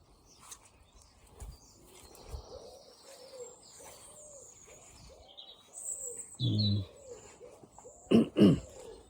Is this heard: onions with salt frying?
no